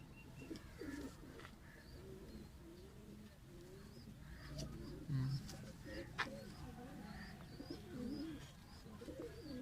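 Soft, repeated cooing of pigeons nearby, with low murmuring voices and occasional chirps in the background.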